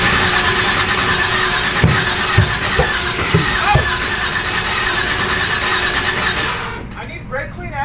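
A procharged LS V8 engine sprayed with brake clean cranks and sputters, with a loud continuous mechanical roar and uneven firing pops before cutting off near the end, while voices talk over it.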